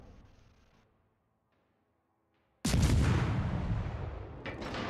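Naval guns fire in a warship video game: after a near-silent gap, one loud booming blast erupts and rumbles on, with a further burst near the end.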